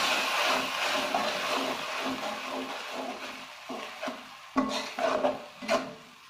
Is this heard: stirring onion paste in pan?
yes